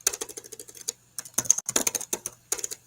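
Typing on a computer keyboard during a video call, bursts of quick light key clicks in uneven runs separated by short pauses, close and clear with no talking.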